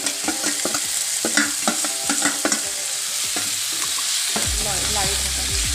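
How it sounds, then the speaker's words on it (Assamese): Marinated chicken pieces frying in a pan while being stirred, with clattering scrapes of a utensil at first, then a steady sizzle swelling as the meat settles into hot oil. "মাংসবিলাক এতিয়া ঢালি দিলে, মেৰিনেট কৰা মাংসবিলাক দি আছোঁ"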